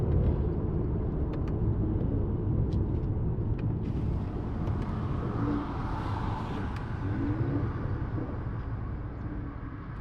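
A Mercedes-AMG C43 V6 engine idles with a low, soft exhaust burble, steady and rumbling throughout with no voices.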